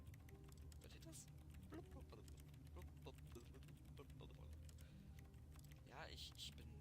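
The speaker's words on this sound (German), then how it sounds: "dann klingt das die ganze Zeit so, als wenn ich irgendwelche Tasten auf der Tastatur drücken würde" Rapid, continuous clatter of keyboard typing from the Stanley Parable office game, running steadily throughout with short bursts and quick keystrokes, over a low ambient hum and a few faint interjections.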